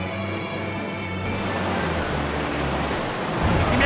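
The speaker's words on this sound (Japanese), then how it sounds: "ここで波乗りだ。" A Surf attack in the Pokémon Stadium 2 video game, heard as a steady, loud rush of broadband water-like noise that swells slightly toward the end and has no break across the whole few seconds.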